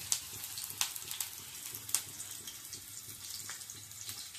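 Carrot and green chilli sizzle in hot oil for home-style Maggi noodles, a steady faint hiss with scattered crackles and pops.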